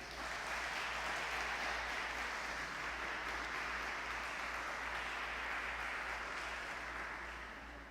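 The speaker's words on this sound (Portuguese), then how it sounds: "Bata palmas para o Senhor, meu amado." A church congregation claps together in a soft, steady wash of many hands that lasts several seconds and fades slightly at the end. It sits faint and distant over a low electrical hum, with no talking.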